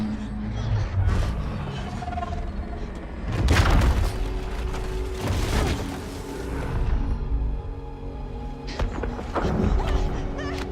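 Gunfire and heavy booms in a Mirror's Edge Catalyst game scene, loud bursts around three and five seconds and again near nine, layered over game music and ambience with people talking between shots.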